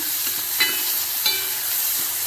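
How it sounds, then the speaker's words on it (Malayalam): Chopped carrot, green chillies and ginger sauté in a hot pan for rice, giving a steady close sizzle with a couple of brief stirring scrapes of the spoon against the pan, no voices. "നന്നായി ഒന്ന് വഴറ്റി കൊടുക്കാം"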